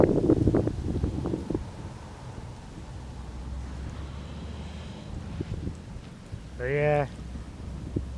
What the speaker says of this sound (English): Wind gust here.